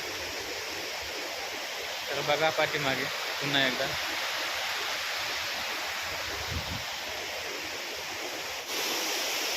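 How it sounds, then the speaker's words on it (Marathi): A waterfall at Trimbakeshwar roars in a steady, dense rush of falling water that fills the whole clip, while someone speaks briefly over it partway through. "आजचा हा वॉटरफॉल म्हणजे आपला धबधबा कसा वाटला तुम्हाला"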